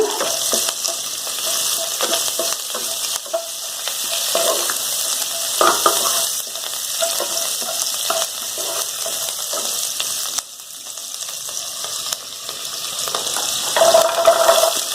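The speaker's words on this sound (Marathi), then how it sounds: "तूप पितळलं की लगेच मिरची जिरे लवंग दालची काळी मिरी काजमीर पण त्यातच टाका" Chili, cumin, cloves, cinnamon and black pepper frying in melted ghee, a dense steady sizzle with scattered crackles and faint scraping, briefly dipping before swelling louder near the end.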